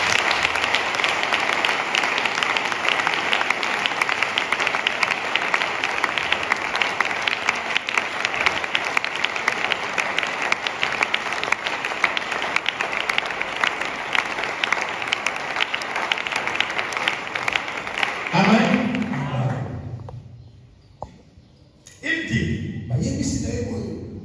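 A church congregation applauding during a sermon, dense sustained clapping for about eighteen seconds before it fades into a preacher's voice.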